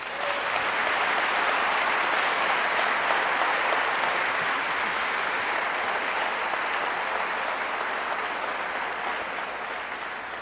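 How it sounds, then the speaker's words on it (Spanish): Sustained loud applause from an audience at a conference on the gifts of the Holy Spirit in Honduras, a dense, even roar of clapping holding steady throughout. "Un fuerte aplauso al Señor."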